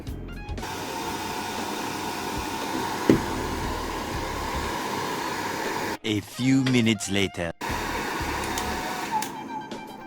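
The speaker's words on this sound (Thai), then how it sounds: "ผมจะใช้นี่ตัวช่วยของผม ไดเป่าผมนั่นเองครับ ผมก็จะเป่า ประมาณ 2-3 นาทีนะเพื่อให้ ตัวชิ้นงานนะครับ มันนิ่มขึ้นนะครับ" A hair dryer blows steadily on a NECA Godzilla figure part to soften the plastic, a loud constant whooshing hum, close by, briefly cut off midway while someone talks, then resuming.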